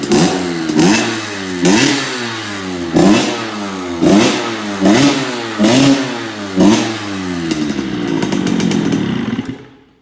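A Masai motorbike with a Generic engine revs repeatedly past 7000 rpm: six rising, buzzing blips in a steady rhythm, close and loud, then a longer sustained high rev that cuts off abruptly.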